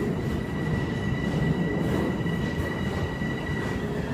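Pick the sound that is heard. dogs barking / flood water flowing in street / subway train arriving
subway train arriving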